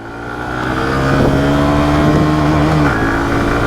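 Hero Glamour 125 motorcycle pulls at full throttle in first gear, its engine note rising steadily and droning loud and near for several seconds before easing slightly, with no voices.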